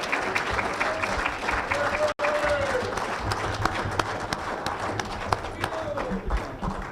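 A crowd applauds at an auctioneers and ringmen championship, with sustained dense clapping in a hall, a low hum underneath and a voice briefly heard over it, with one sudden dropout midway.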